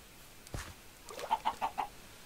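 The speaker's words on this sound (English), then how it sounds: "as long as the chickens don't, like, actually drown in there" Chickens cluck in the Minecraft video game: a brief squawk, then four evenly spaced clucks in a quick row, fairly faint and on their own with no talk.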